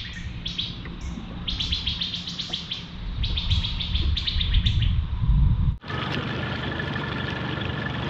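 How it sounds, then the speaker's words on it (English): Bursts of rapid bird chirps ring out over a buzzing background, then cut off abruptly, leaving a steady hiss and hum. "A noisy bird."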